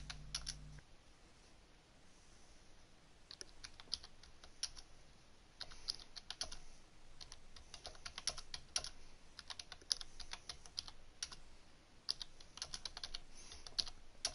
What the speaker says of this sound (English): As you can hear me typing furiously in the chat.